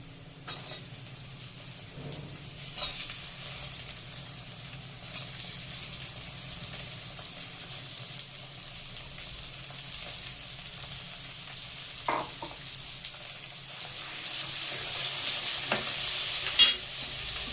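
Broad beans (chikkudukaya) fry with onions in a pan for a curry, giving a steady, moderate sizzle with occasional stirring clinks throughout and no talking.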